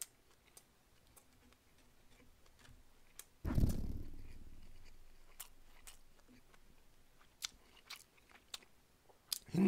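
Quiet, close chewing of E-Mart white-leg shrimp sushi, with soft moist mouth clicks and small bites spread across the clip and one louder rustling burst partway through.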